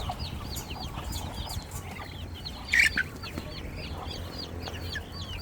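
Chicks and ducklings being fed, with many small high cheeps and light clucks repeating softly throughout and a brief louder cluster of calls near the middle.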